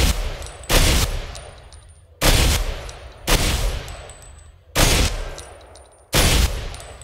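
An AN-49 burst rifle in Ghost Recon Phantoms fires five loud two-shot bursts, each spaced roughly a second or more apart and trailing off in a short ringing decay, with no talk over them.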